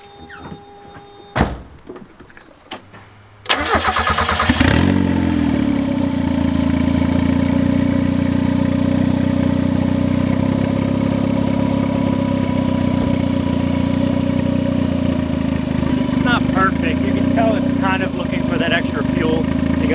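A turbocharged Mazda Miata cranks after a few clicks and clunks, then settles into a loud, steady idle with a constant low hum. Some rattly ticking rises toward the end.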